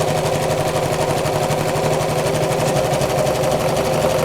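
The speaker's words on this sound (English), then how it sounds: "it takes a little longer to sew because the machine's going backwards and forwards" A domestic sewing machine runs a triple straight stitch for stretch fabric, stepping backwards and forwards in a steady, fast mechanical chatter that stays close and continuous throughout.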